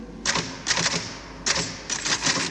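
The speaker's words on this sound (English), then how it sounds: "Whenever I'm in here, you hear me typing." Clattering typewriter keystrokes come in quick bursts, close and crisp, with brief pauses between runs of typing.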